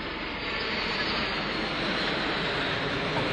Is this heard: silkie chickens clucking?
no